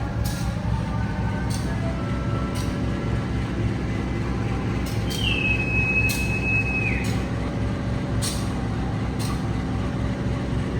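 Interior of a moving economy-class carriage on the KA Dhoho train, a constant low rumble and drone of wheels and motor with occasional clicks and a brief high tone partway through.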